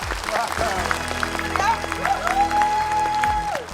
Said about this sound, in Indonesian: kita kasih tepuk tangan